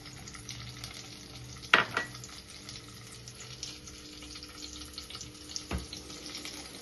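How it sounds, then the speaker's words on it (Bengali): Capsicum fries in a pan with a steady, close sizzle, broken by a couple of sharp clatters from stirring with a utensil. "একটু ভাজা ভাজা করে নিচ্ছে, শক্ত ভাবটা যাতে চলে যায়।"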